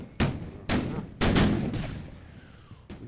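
Cannon fire in Napoleon at War: Wagram: three heavy booms in quick succession, each with a rumbling, decaying tail, then a weaker fourth thud at the end.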